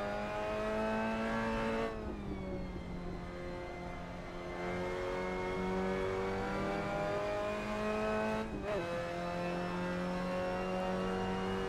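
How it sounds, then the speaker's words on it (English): An MX-5 Cup race car at Brands Hatch in the Assetto Corsa sim racing game holds full throttle, its engine droning loud and steady with a brief dip at a gear change partway through. "Hard on the throttle."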